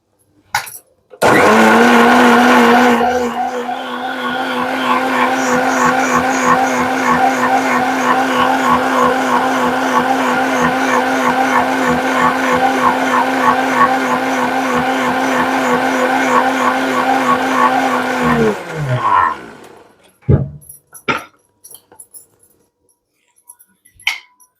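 A mixer grinder grinds cashew, coconut and onion into a masala, whirring loud and steady with a high whine and rattling for about eighteen seconds, then slowing and stopping, followed by a few clinks.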